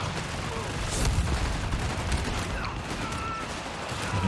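MP40 submachine guns and a machine gun fire in Company of Heroes 3 amid a dense battlefield clatter of overlapping bursts, with a voice talking over the gunfire throughout.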